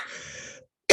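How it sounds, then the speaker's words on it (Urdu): A person with a persistent cough during an online Quran lesson clears their throat raggedly, then breaks into a sharp, loud cough close to the microphone after a short silence. "دعا کریں پلیز میری کھانسی ٹھیک ہو جائے"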